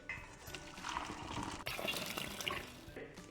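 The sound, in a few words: draining water from partially cooked biryani rice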